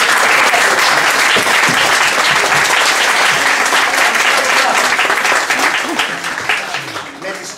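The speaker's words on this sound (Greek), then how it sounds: "θα σας ζητήσω να χειροκροτήσουμε όλοι μαζί την κυρία Θεοδόρα Τσιτσιπά" A hall audience at a Thessalian association cultural event applauds loudly and continuously, a dense wash of clapping that fades slightly toward the end.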